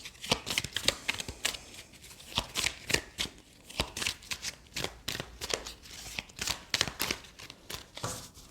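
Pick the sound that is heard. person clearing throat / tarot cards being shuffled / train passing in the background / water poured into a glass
tarot cards being shuffled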